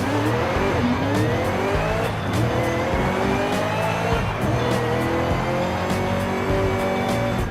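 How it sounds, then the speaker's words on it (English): A tuned car in the Forza racing game sounds like a touring car, its engine revving up and down through gear changes with rising and falling pitch and some tire squeal, loud and steady for about eight seconds. "Does sound like a touring car now."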